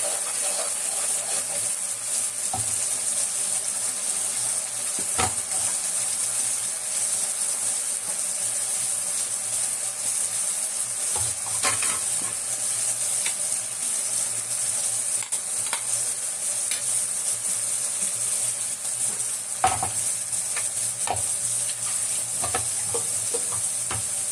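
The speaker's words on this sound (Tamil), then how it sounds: "கொஞ்சம் வதக்கணும் பார்த்தீங்களா" Ground onion, tomato, pepper, cumin and garlic paste sautéing in a pan for a fish curry, with a steady sizzle and frying hiss throughout and occasional stirring scrapes, no talking.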